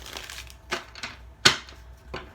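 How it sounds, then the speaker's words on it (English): Tarot cards are shuffled by hand, giving soft papery riffles and a few crisp snaps, one sharper flick near the middle, quiet and close with no talking. "So I'm just going to shuffle a few more times."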